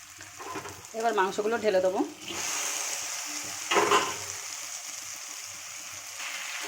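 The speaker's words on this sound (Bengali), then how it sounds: "মশলাগুলো হয়ে গেছে, এবার মাংসগুলো ঢেলে দেবো" Chicken pieces tipped into cooked spices for chili chicken, bursting into a loud sustained sizzle after a brief voice, with a spoon scrape partway through, close and steady.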